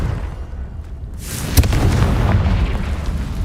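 A Confringo spell blast from the video game Hogwarts Legacy bursts loudly over a rumbling backdrop of game noise, a sharp hit followed by a sustained roar.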